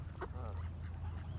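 Ducks on the water at Loch Raven Reservoir give a brief quack over a steady low hum of outdoor background noise, fairly faint and without talk.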